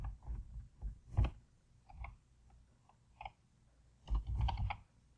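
Computer keyboard typing comes in short, quiet bursts of clustered key clicks separated by pauses, with a denser flurry of keystrokes near the end.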